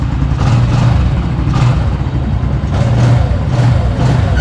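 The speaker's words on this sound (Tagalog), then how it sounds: "Rev natin ng konti guys" A 2024 Kawasaki CT125 Bajaj motorcycle revs through its muffler in several short, loud bursts, each rising and falling over a steady close idle rumble, with no talking.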